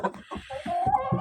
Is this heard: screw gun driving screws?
no